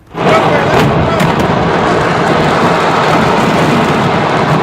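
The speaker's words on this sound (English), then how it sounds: "Dozens killed after an explosion just rips through a fireworks market." A fireworks market explosion appears as a sudden loud onset followed by sustained roaring, crackling blasts and rumble, dense and continuous, with muffled voices mixed in.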